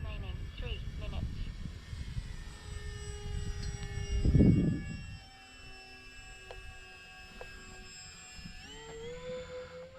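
A Bush Mule V2 RC plane takes off, its electric motor a thin, steady whine with shifting pitch, while a louder rushing burst passes near the middle of the clip and then fades.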